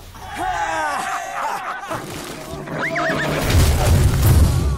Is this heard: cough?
no